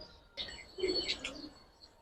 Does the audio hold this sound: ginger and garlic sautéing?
no